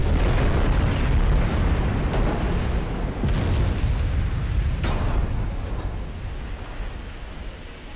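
Naval gunfire from warships in Ultimate Admiral: Dreadnoughts, a continuous rumbling barrage with a few sharper booming reports standing out, loud and dense, slowly easing toward the end, with no talk.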